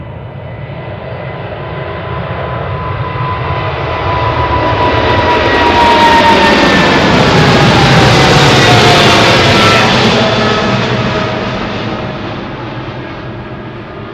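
Jet airliner engines producing about 230,000 pounds of thrust at full power, a loud roar that swells as the aircraft passes close by, peaks in the middle, then slowly fades with a whining tone.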